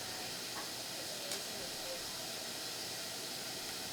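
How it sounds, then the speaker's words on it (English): Water boiling in a steamer while Chinese dumplings and steamed buns are made: a steady, faint hiss of steam throughout with a soft background wash, quiet and unbroken. "In the steamer, I have water boiling."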